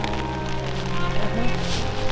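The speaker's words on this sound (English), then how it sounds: "It's raining and we're trying not to get everything wet." Rain falling around a backpacking campsite in a national forest, a steady pattering hiss that continues throughout with a faint low hum underneath and no clear talking.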